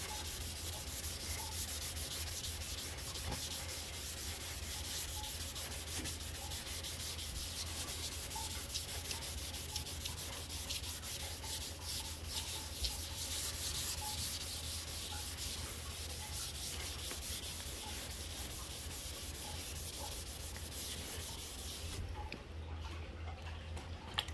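Continuous rasping strokes of a sanding block worked back and forth over primed automotive bodywork, steady and close for the whole stretch with a faint ticking underneath and no speech.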